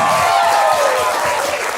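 Audience applause at a comedy show, a brief dense patter of clapping from a crowd, fairly loud and steady with a tonal hum beneath.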